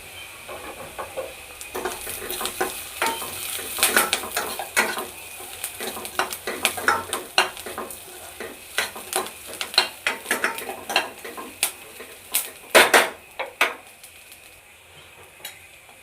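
Onion, curry leaves and pounded spice powder being stirred in a hot pan, with a light sizzle under repeated scraping and clinking strokes of a spoon against the metal, and no talking.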